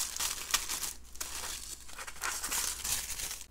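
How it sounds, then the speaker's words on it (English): Tissue paper wrapping being pulled open inside a bead box, a steady close rustle and crinkle of thin paper lasting a few seconds, with no voices. "Let's go ahead and open up the box. I love how they wrap it up in tissue"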